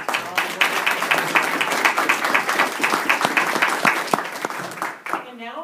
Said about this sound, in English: I believe another round of applause for all the work